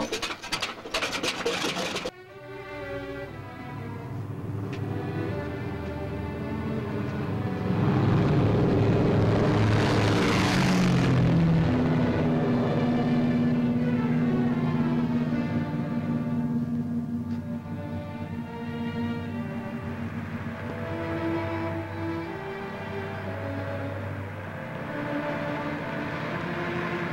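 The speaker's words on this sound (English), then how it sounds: "All right, Chuck, take off." A propeller airplane revs and takes off in an old adventure serial, its engine drone building steadily and holding loud and continuous, with tonal harmonics under a rushing wash, and no talk over it.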